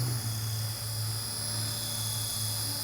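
A helicopter hovers about two feet off the ground during a hovering autorotation, a steady drone with a constant tonal hum and buzzing rotor whine, sounding somewhat distant and even, with no talking.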